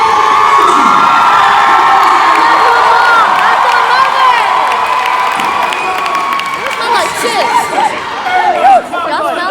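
A large crowd cheers and shouts continuously, loud and dense, with high-pitched whoops and children's screams rising above the roar.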